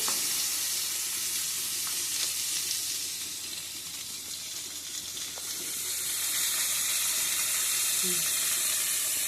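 Chicken dropped into a pan over fried onions, a loud, dense sizzle and hiss that dips briefly then swells again, with light stirring scrapes.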